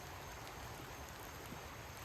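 A creek flows steadily at Blackwater Creek Preserve near Plant City and Crystal Springs, Florida, on a rainy day, giving a continuous close rush of water with no voices and no breaks.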